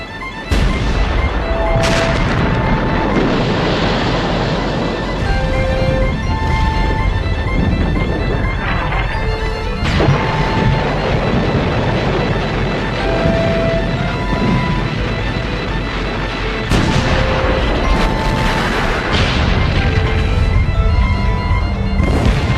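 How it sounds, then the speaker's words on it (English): A World War I artillery bombardment thunders on, shells exploding in dense repeated booms and crashes over a continuous loud rumble. "The Germans hit the British with 1 million shells in just 5 hours."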